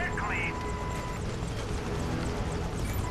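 A helicopter in the video game Prototype drones steadily through a busy game soundscape, its rotor hum blended with engine rumble and scattered in-game effects, mid-distance and fairly loud throughout.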